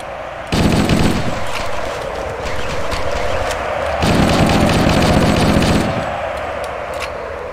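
Automatic weapon fire in Halo: Combat Evolved, made up of two loud sustained bursts of rapid shots separated by a lower rumble of game sound. It is close and dominant, with no talking.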